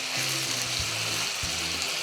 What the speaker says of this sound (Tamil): சேர்த்து நல்லா கிளறி விட்டுக்கலாம்.